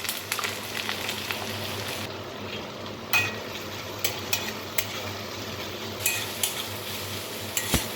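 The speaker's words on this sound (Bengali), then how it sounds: "ভেজে রাখা ডিমের তেলের মধ্যে দিয়ে দেব কেটে রাখা পেঁয়াজ এবং রসুন" Chopped onion and garlic frying in oil left over from fried eggs, a constant sizzle under repeated scraping stirs and light clinks of a spatula against the pan.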